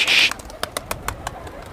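A brief burst of pigeon wing flaps opens, followed by a series of sharp, irregular clicks and taps, close by, with no voices.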